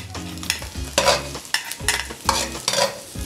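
Onion being stirred and fried in a pan for fried rice, with repeated scraping stir strokes over a steady close sizzle, no talk.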